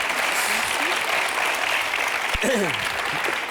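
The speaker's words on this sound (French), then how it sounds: "Des applaudissements chaleureux que vous méritez bien, Muriel, avec ce beau métier" A TV studio audience gives warm applause, dense continuous clapping throughout, with a few faint voices rising briefly in the latter half.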